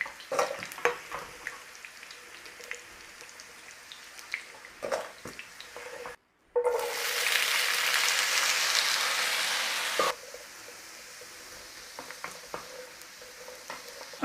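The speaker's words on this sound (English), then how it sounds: "Leave the oil in. We've got some more to fry." Potatoes fry in oil in a pan, a steady broadband sizzle with occasional stirring clatter, swelling into a loud, dense crackle after a brief drop to near silence before settling back to a quieter fizz.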